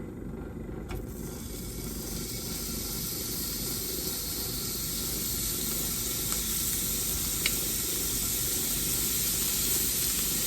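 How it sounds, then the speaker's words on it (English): Shrimp sizzle in a hot pan on a stove over medium heat, a steady loud frying hiss that builds slightly after they drop in, with a couple of faint utensil ticks. "So I'm going to go ahead and add my shrimp in."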